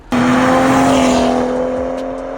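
A 2018 BMW 340i RWD with reflashed engine software pulls away, its loud, close engine note holding a steady drone before slowly easing off.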